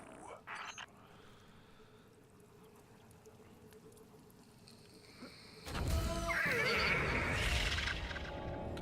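A short sound at the start, then a loud, shrill horse whinny with a noisy, synthetic game-like quality near the end, from Overwatch 2 on PS5.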